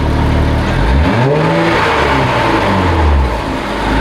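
A Nissan 400Z with a Z1 single-exit 3-inch exhaust revs up close, climbing and falling through two loud throttle blips before dropping back to a rumbling idle.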